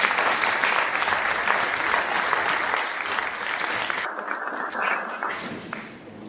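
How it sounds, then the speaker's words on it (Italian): Warm applause from a seated audience at an Italian cultural event welcomes a guitarist, a dense steady patter of many hands that carries on evenly and eases slightly near the end. "accogliamo con un applauso Francesca Melchiorre"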